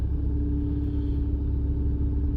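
A 1997 GM Vectra 2.0 16v idles steadily with a low, even rumble and a faint hum, the engine note staying close and constant for the whole stretch, with no one talking.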